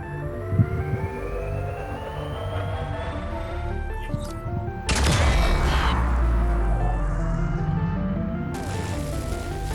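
A heavy explosion in the video game Grounded erupts with a deep booming rumble and broad roar, layered over a humming, throbbing electronic soundtrack with no talking.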